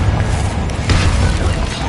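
The Confringo fire spell explodes in Hogwarts Legacy, a loud, dense, rumbling blast that fills the whole moment with a sustained booming roar and no voices.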